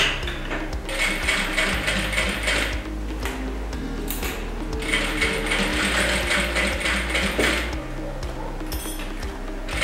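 A sewing machine stitches in rapid, mechanical bursts, starting and stopping several times as it backstitches at the start of a seam on a simple beginner's clutch bag, close and clear.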